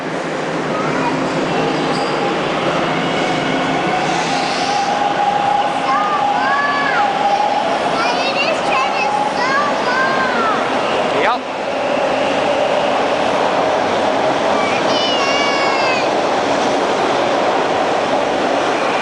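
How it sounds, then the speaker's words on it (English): A subway train rumbles and screeches as it pulls away into a tunnel, a loud, continuous roar with metallic squeals and clatter close by throughout, and voices faintly beneath. "Bye, train."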